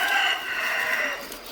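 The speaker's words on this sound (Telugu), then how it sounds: "చెట్లో పుంజులు" Roosters perched in a tree at a village house let out a loud, drawn-out crow that fills the moment, with other fowl faintly clucking nearby and no talking.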